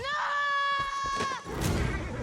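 A woman in a Planet of the Apes film lets out a loud, sustained, high-pitched scream that wavers and then breaks off, followed by a rough burst of scuffling noise.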